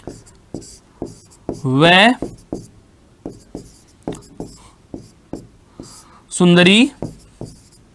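Chalk tapping and scraping on a classroom board in short regular strokes through most of the stretch, broken by two bursts of a teacher's speech.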